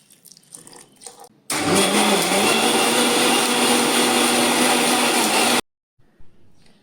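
An electric mixer-grinder churns soaked rice and coconut with a little water into dosa batter, a loud steady whirring drone that starts abruptly, runs about four seconds and cuts off, with quiet kitchen sounds either side.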